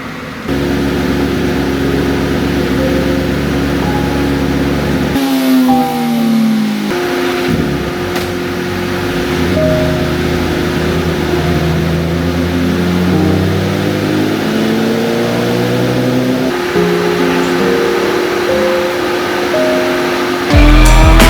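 A 2022 BMW S1000RR sport motorcycle engine screams through repeated high-rev pulls on a dyno, its pitch climbing in long sweeps, dropping briefly between runs, then rising again, loud and close with no talk.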